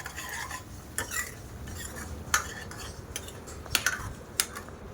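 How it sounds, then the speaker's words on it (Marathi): Onion masala paste for chole stirred while frying in a pan, with a soft sizzle under repeated clinks and scrapes of a metal spoon against the vessel, close, no speech. "कांदा आपली पेस्ट थोडीशी फ्राय करून घ्यायची."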